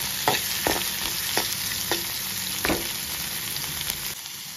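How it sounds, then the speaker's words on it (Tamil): Tomato and onion sautéing in a pan for ridge gourd kootu: a steady hiss of frying under a series of sharp spatula taps and scrapes every half second or so, close up, no speech. "தக்காளி வெங்காயம் 2 சேர்ந்து வதங்கட்டும்."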